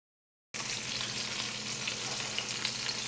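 Fish fillets fry in a pan for fish tacos, with a steady, close sizzle and crackle that starts abruptly after a brief silence.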